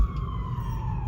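An ambulance siren sounds amid Manhattan street traffic in New York City, a steady wailing tone held over a dense rumble of engines and road noise throughout.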